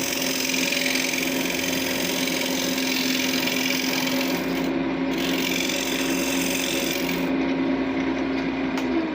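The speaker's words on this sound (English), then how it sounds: "So I just usually use my chisel" A chisel trims wood during thread chasing, making a continuous close scraping and rasping over a steady motor hum, with a couple of brief lighter moments in the cutting.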